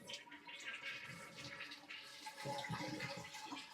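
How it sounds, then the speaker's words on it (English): Toilet tank emptying with the flush handle held down, water rushing and gurgling steadily out of the tank at close range, alone without talk. "We're going to hold the handle down,"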